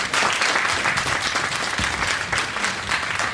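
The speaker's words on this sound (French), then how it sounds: "On l'applaudit encore pour sa présentation." Audience applause for a presentation at a World Consumer Day event, a steady dense clapping from a large room that holds at an even level throughout with no voices above it.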